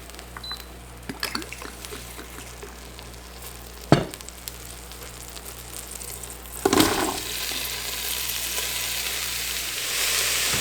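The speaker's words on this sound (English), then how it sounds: "We're now going to saute the vegetables." Vegetables sautéing in an Instant Pot after beef, a soft steady sizzle with occasional clinks of a utensil against the pot, growing louder toward the end.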